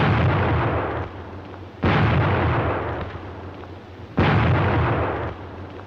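Grenades burst during a WWII German squad assault on a position: three heavy, close booms, each trailing off into a long rolling decay before the next.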